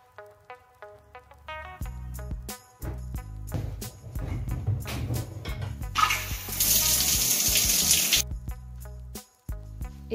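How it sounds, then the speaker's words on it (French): Running water from a home shower, a steady close hiss that swells louder midway and then cuts back, with scattered clinks and knocks of bathroom items around it. "Après tout ça, je file à la douche."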